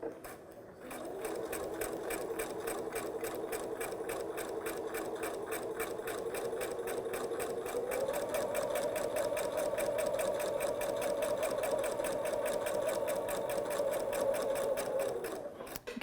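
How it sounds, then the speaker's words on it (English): A sewing machine top-stitches steadily along a zipper tape, its fast, even needle rhythm running continuously close up with a slight rise in pitch partway through, then stopping near the end. "I'm going to top stitch right along the tape"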